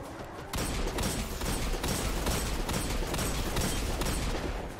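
Rapid enemy gunfire in Destiny 2 during a Master Lost Sector, a dense continuous barrage of shots with repeated bursts filling the whole stretch, loud and close.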